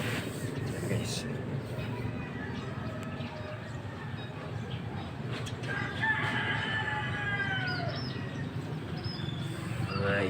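A rooster crows with chickens around a house in Ciudad Nuevo, Naic, Cavite. The crowing rises mid-clip over steady outdoor background noise, with a voice talking nearby.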